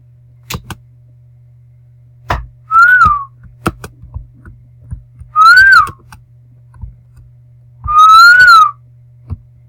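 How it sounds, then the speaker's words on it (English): A person whistles three clear rising-and-falling notes, spaced a few seconds apart, to calm a horse at a jumping and cross-country outing, with soft clicks and thumps in between. "So I kind of just whistled him to do them because it soothed him."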